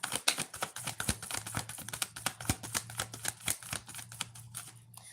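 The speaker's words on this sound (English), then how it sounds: "You see I'm just shuffling." Tarot cards are shuffled by hand close up, giving a quiet, steady run of soft riffling flicks and papery taps with a faint low hum underneath and no talking.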